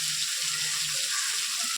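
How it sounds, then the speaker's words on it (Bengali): Water poured from a pot into a vegetable curry cooking in a pan, a loud close steady gush with a hiss of sizzling that cuts off abruptly after under two seconds. "এবার তরকারিতে জল দেবো"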